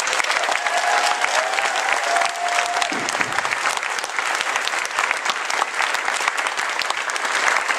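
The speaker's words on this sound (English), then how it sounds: "By asking for a round of applause for our tech and staff" A convention crowd claps for the tech and staff, sustained dense applause from a large audience that stays loud from start to finish.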